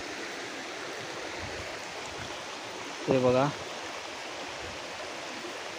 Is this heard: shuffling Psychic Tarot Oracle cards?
no